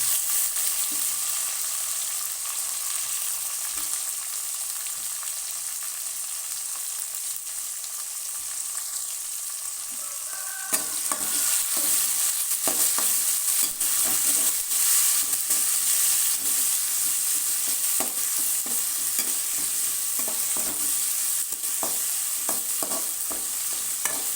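Tomatoes hit a hot pan of cooking potatoes and fry with a loud, steady sizzle, while a spoon stirs and scrapes in repeated clattering strokes throughout the second half.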